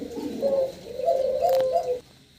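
Young fancy pigeons coo in soft, repeated rolling phrases, close and fairly clear for about two seconds, with no talking.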